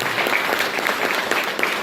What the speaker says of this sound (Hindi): तो जोरदार तालियां अब होनी चाहिए।